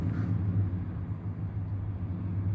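A rebuilt truck engine idling from a distance, a low steady rumble with a faint rhythmic thump, continuous and muffled with no talking.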